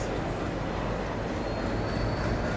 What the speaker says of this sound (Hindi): ये शंटिंग हो रही है, देखिए रिवर्स ले जाया जा रहा है रेक को प्लेटफॉर्म से हटा करके